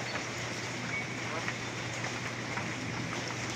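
Rain falling steadily outdoors, an even, dense hiss of drops with a faint low hum underneath and no breaks.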